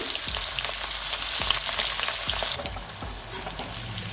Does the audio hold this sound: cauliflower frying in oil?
yes